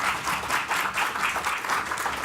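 An audience at a public cancer research forum breaks into steady applause, a dense continuous wash of clapping from a crowded hall with slight surges, moderately loud.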